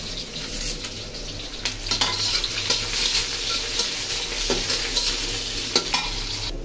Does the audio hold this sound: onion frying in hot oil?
yes